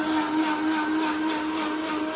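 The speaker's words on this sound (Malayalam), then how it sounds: "അർഷദ് അപ്പുറന്ന് ബത്തക്ക ജ്യൂസ് അടിക്കുന്നു." A blender whirs steadily while blending watermelon into juice in a home kitchen, a constant close, loud motor drone with a high whine and no pauses throughout.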